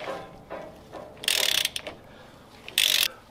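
A ratchet loosens the tight oil drain plug under a VW Beetle, giving two quick, close bursts of rapid clicking separated by quieter shuffling handling noises.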